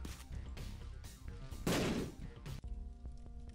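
Shots fired at fires in The Binding of Isaac: Repentance, a run of soft game pops and thuds with one louder crackling burst partway through over steady game sound.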